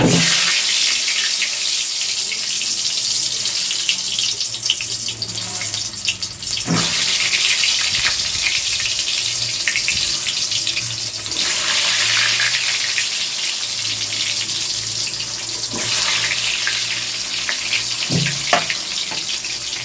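Diced potatoes coated in salt and turmeric fry in hot oil, giving a loud, steady, close hiss that continues throughout with a few brief sharper bursts.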